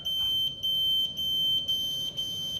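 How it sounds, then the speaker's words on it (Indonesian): An alarm added to a 900 WP solar power system with a 24-volt LTO battery sounds when the inverter switches on, a loud piercing electronic beep pulsing in quick repeated bursts with short gaps. "jadi saya tambahkan alarm isyarat saat inverter on"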